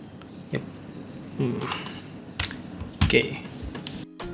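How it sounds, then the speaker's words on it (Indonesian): Light clicking keystrokes on a Press Play Voyager keyboard come in scattered taps and short bursts, close but soft over faint room noise. "Ini adalah keyboard dari Press Play Voyager."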